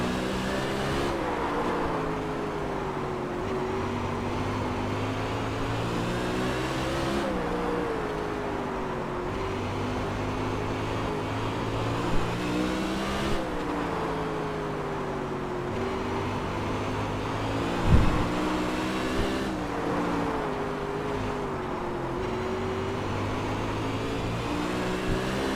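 Sprint car racing at Lanier at night in iRacing, its engine droning steadily and loudly throughout, with the pitch rising and falling in repeated cycles as the car laps the track.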